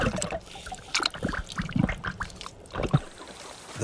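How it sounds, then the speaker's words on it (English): Giant earthworms squelch and gurgle through water-filled underground burrows, a string of irregular wet bubbling and trickling pops, faint and close, with no talk. "Those gurgling noises, believe it or not, are being made by giant earthworms as they squelch along their water-filled"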